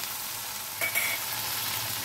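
A ground paste of cumin, ginger and fennel fries in oil in a pan for a rohu fish curry, sizzling steadily and loudly with a spoon stirring through it and a brief scrape partway.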